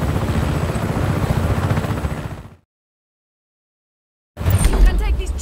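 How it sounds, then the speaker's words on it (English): Rotor-heavy helicopter noise from the video game Just Cause 3, loud and close with dense low thumping, cutting out abruptly for about two seconds before returning just as strong. "You can take this chopper, Fratre."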